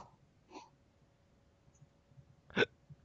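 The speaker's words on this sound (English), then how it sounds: "Oh, hiccups." A person's hiccups in a quiet room: a soft one early on, then a louder, sharper hiccup near the end, both close to the microphone with near silence in between.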